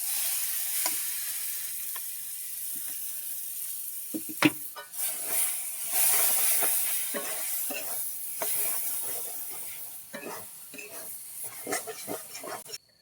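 Dal being fried and stirred in a pan with turmeric powder, dry and tight, for dal puri filling: steady sizzle with repeated scraping stir strokes and occasional pan clinks, close and continuous.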